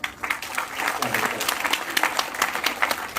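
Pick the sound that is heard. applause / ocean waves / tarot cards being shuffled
applause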